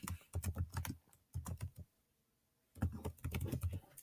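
Quick bursts of typing on a computer keyboard, close and crisp, with rapid key clicks in three runs separated by a silent pause of over a second.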